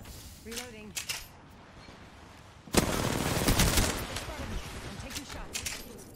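Video game gunfire, several sharp shots early on followed by a dense, loud burst of rapid firing that keeps going with scattered cracks, a voice partly mixed in.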